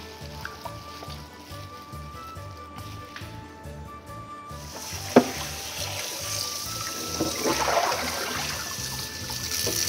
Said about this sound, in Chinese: 当抹了一段时间，我们就拿去冲水冲洗干净。